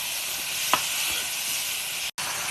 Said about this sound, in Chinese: 倒点蚝油、生抽，爆炒一下